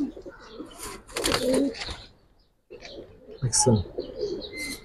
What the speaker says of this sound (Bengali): যারা মোটা গলার কবুতর চান তারা দেখতে পারেন।